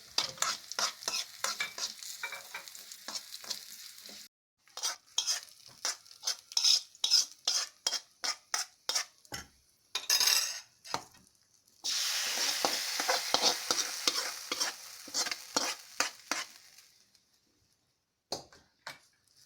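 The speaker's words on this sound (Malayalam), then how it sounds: "ഇനി നമുക്കിതിൽ വറ്റൽ മുളക് ഇട്ട് കൊടുക്കാം." Dried red chilies and curry leaves frying in hot oil for kootukari, with repeated sharp utensil scrapes and clinks against the pan, a brief pause midway, then a burst of steady sizzling.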